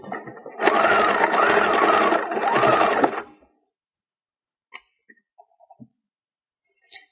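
A sewing machine runs for about three seconds, stitching a Lycra fringe with a fast steady whir and a brief slowdown midway, then stops, leaving near silence broken by a few faint small clicks.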